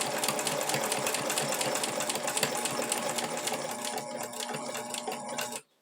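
A sewing machine stitches a seam on a diaper holder, a loud, close, steady mechanical whir that runs unbroken for several seconds before stopping abruptly, with no talking.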